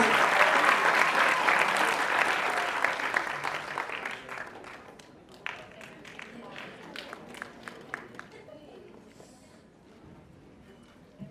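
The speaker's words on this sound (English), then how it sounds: "Let's have a round of applause for the Academy of Shikara, guys." An audience at a college event claps loudly and densely at first, then the applause thins to scattered claps that fade out. Voices can be heard faintly during the clapping.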